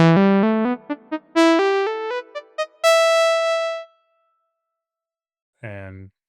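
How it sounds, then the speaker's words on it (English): A synthesizer saw-wave patch plays a bright, buzzy melodic line of rising and falling notes, ending on a long sustained tone that fades, then one short note sounds after a pause. "The last group of patches are the simple waveforms, like the saw wave"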